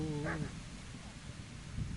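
A dog in the medieval game Kingdom Come: Deliverance gives a short whimpering bark at the very start, moderately close, then only low game ambience remains.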